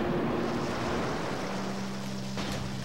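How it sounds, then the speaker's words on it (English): Water bombs blowing up underwater in the Twilight Princess video game, a dense muffled rushing wash of bubbling noise with a low steady tone and a brief sharp burst near the end. "that's a nice effect sound for blowing up the water bombs, underwater at least"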